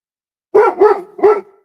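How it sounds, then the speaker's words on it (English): A dog barks three times in quick succession, loud and close, with nothing else around it. "She'll bark at people, but she don't normally growl at people."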